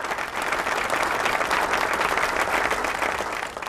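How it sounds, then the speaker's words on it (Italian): Steady applause from an audience at the Ancona Collezioni 2015 fashion event, honoring the hostesses, with dense clapping sustained at an even, loud level throughout and no voices on top. "a questo punto un applauso anche per loro"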